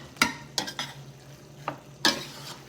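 A utensil scrapes and stirs sautéed meat seasoned with pepper in a pan, a few sharp scrapes spaced irregularly over a soft background sizzle, close up with no voices.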